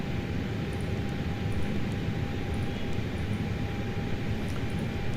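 An Airbus A320neo cruises in Microsoft Flight Simulator with a constant low cabin rumble and engine drone, held soft and steady throughout.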